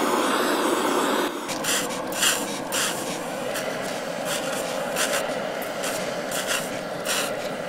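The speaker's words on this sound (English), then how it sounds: "now I'm going to spray it with water" A steady hissing spray of water onto red-hot zircaloy metal starts, then shifts to sizzling, crackling steam with repeated sharp bursts, continuous and fairly close.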